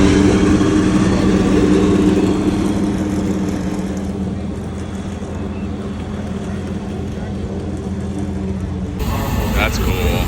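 A Porsche GT4R race car engine runs at the Rennsport Reunion 7 event, a loud, steady close rumble that eases slightly midway and then rises again, with voices talking over it.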